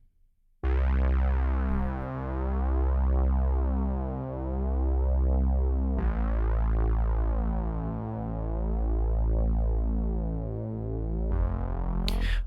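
A thick synth bass preset layered with R bass for extra low end, an 80s-style indie pop part, pulses in steady rhythmic notes, loud and alone, with a heavy low rumble under bright harmonics.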